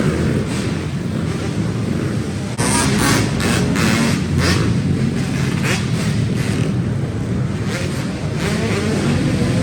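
Dirt bikes revving and riding inside an indoor space, a steady loud engine roar with surging throttle bursts throughout, no talk.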